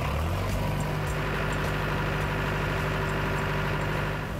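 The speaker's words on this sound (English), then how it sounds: "I get to ride a John Deere tractor." A John Deere tractor engine runs on a farm with a steady, close, low mechanical drone that holds evenly throughout, with no voices.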